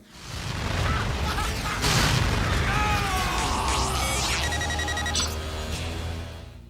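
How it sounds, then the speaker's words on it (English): A loud explosion bursts across the field during a Yu-Gi-Oh! VRAINS anime duel, with a sharp blast followed by sweeping whooshes and a sustained dramatic roar under a musical score. "An explosion consumes the field, throwing both of them off their boards"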